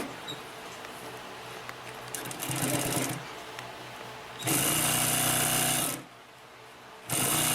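A Consew P1255RB industrial walking-foot sewing machine stitches through four folded layers of canvas, whirring in loud bursts: a short run, then a longer stretch, a pause, and another run starting again.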